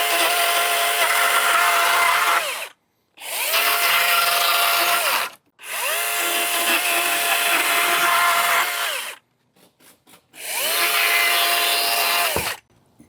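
A loud chainsaw cuts through old deck framing in four long sustained bursts, with the engine pitch dipping as the chain bites the wood and short idle gaps between cuts.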